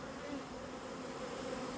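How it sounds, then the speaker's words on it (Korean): An autumn honeybee swarm buzzes in a dense, steady drone, close and continuous throughout, with no voices. "가을 분봉을 나간 벌입니다."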